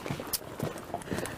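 Horses walk through a winter pasture, hooves clip-clopping in an uneven, unhurried rhythm close by, with a few sharper knocks between the softer steps.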